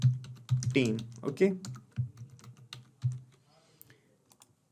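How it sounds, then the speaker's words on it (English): Keyboard typing entering a trigger name in a Zendesk setup, quick key clicks running beneath a man's close, steady speech throughout. "let me type here"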